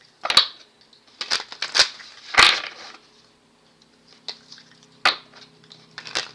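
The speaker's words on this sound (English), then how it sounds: "Let me shuffle this deck up for y'all a little bit." A deck of playing cards is shuffled in several quick, crisp riffling bursts separated by brief pauses, close to the microphone with no talking.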